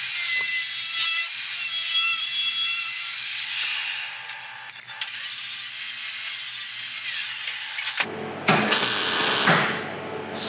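A power tool cuts off a piece of sheet metal for a Locost kit car floor, a continuous harsh high-pitched grinding hiss that runs steadily and then surges louder near the end.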